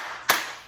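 A single sharp hand clap rings out close and loud, then its echo fades quickly in an otherwise quiet room.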